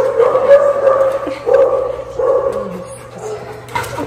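Two family dogs being handed over before a move, giving several close, loud yips and whimpering barks in uneven bursts, with people talking nearby.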